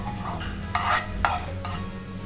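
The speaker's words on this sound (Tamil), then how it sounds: "இதை நல்லா ஃப்ரை பண்ணி எடுத்துக்கலாம்" Cashews fry in melted ghee on a tawa over a medium flame, with a steady low sizzle under a few bursts of scraping stirring, close and with no voice.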